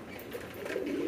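Sirazi pigeons coo softly and close by, a short low murmuring call that swells slightly toward the end, with no talk over it.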